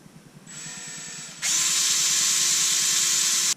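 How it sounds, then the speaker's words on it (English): A power drill bores pilot holes into plastic trim on a Toyota Tacoma, with a brief whir followed by a louder sustained high-pitched spin for about two seconds that stops abruptly. "Drill some pilot holes."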